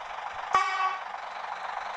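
A bus horn in the BUSSID driving game gives one short beep over a steady engine hum, close and clear.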